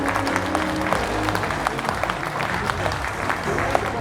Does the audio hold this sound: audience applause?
yes